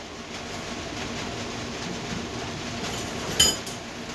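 A metal washer and gear set onto the engine of a 1999 Honda Fourtrax 300 ATV, a single sharp metallic clink near the end after a steady low background hum, close and brief with no talk.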